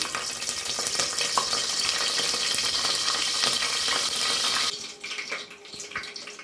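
Mustard seeds and curry leaves temper in hot oil in a pressure cooker for mutton kuzhambu, giving a loud, steady, crackling sizzle that drops off sharply near the end.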